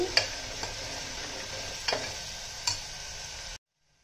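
Ginger garlic paste fries in a pan with a soft, steady sizzle and a few sharp stirring clicks, then cuts off abruptly near the end.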